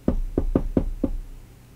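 Knocking with the knuckles on a hard surface, five quick, evenly spaced raps in a steady rhythm, close and fairly loud, with no voices.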